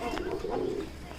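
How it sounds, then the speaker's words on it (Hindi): Older pigeons coo inside a cage, a soft close throaty call that sits over a faint roomy background for a moment. "आपको हम पुराने कबूतर दिखा रहे हैं"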